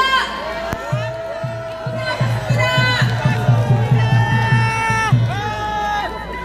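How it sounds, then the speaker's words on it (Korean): A crowd at an outdoor Korean patriotic rally cheers to welcome a guest speaker, a dense roar under a loud amplified voice, with rhythmic low thumps running through the middle. "큰 함성으로 환영해 주시오"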